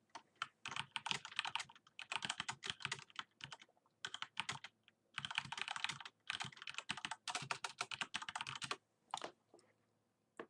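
Fast typing on a computer keyboard during a live forex trading session. The keystrokes come close and clear in quick bursts with brief pauses, and no one speaks.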